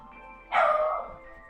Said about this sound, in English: Doggy, why are you barking?